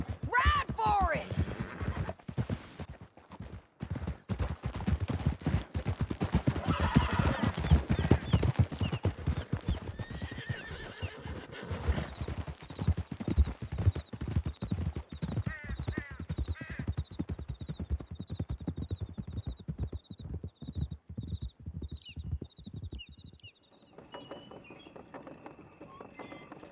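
Several horses gallop hard through a canyon in Red Dead Redemption 2, thick drumming hoofbeats with occasional neighs running almost continuously, fading out near the end into quieter ambience.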